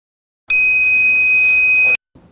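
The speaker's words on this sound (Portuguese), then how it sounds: "ele vai dar um bip, se o caso o fusível estiver bom" A multimeter on continuity test gives a single steady high-pitched beep of about one and a half seconds when its probes touch a good fuse, loud and clear, followed by a brief faint click.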